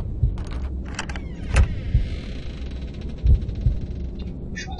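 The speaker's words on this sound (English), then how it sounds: "I hear a heartbeat." Heartbeat from the horror game Dungeon Nightmares, a low throbbing pulse of soft thumps at irregular intervals over a steady dungeon hum, with a few brief clanks and rattles.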